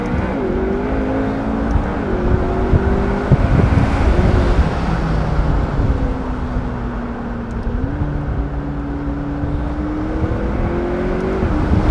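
A McLaren 650S Spider speeds up on an open road, its engine a steady loud drone that shifts in pitch as it climbs through gears, with heavy wind rush over the open cabin.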